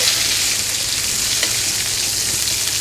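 Battered food fries in a pan until crispy, giving a steady, dense sizzle and crackle that holds close and loud throughout with no voices.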